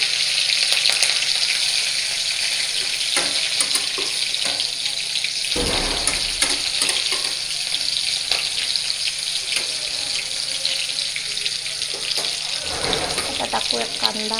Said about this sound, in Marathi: आपण टाकूया त्याच्यात पहिले मिरची, बारीक चिरलेली मिरची.